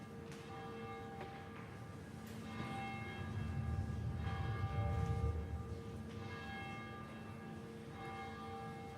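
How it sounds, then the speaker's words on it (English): A church tower bell tolls slowly before a Sunday service, with several resonant strikes whose long ringing overtones hang and overlap. It sounds moderately distant, with a low rumble swelling in the middle. "We pause now to center ourselves as our tower bell calls us to deeper attention and intention."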